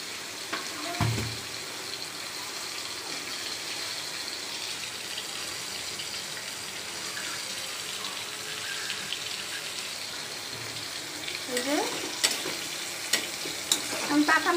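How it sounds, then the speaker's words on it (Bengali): Onions sizzle steadily in a hot pan before pumpkin is added, a constant crackling hiss near and moderately loud, with occasional stirring scrapes and clinks toward the end. "পেঁয়াজের কাঁচা গন্ধটা চলে গেলেই আমি মিষ্টি কুমড়াগুলোকে দিয়ে দিব"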